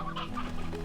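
A rooster in Slime Rancher 2 clucks in a quick run of throaty, burbling calls over a steady low game background hum, close and fairly loud, with no talking.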